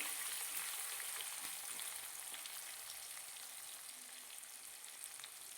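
Chopped onion fries in a pan with a faint, even hiss and a few soft stirring ticks, quiet and continuous with no talking.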